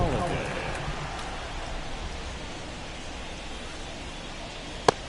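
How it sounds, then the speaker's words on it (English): Steady rain pours down over a baseball stadium in the MLB 24 video game, a dense, even hiss filling the whole stretch, with one sharp click near the end. "This rain is not letting up."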